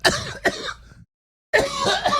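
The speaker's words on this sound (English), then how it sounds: "I have a little cough" Two sharp coughs in quick succession, then a brief silence before a longer, rasping throat-clearing burst, all close and fairly loud.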